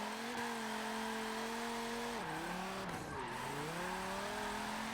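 A Dodge Viper SRT10 on drag tyres in the video game Forza Motorsport 7 spins its wheels with a loud, continuous tyre squeal over a steady engine roar, the pitch dipping and wavering.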